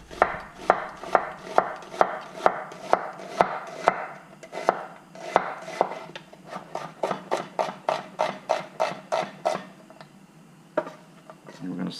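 Quick, regular knife strokes through an onion on a cutting board, slicing it into thin julienne strips; sharp close taps run steadily through the clip with a brief pause near the end.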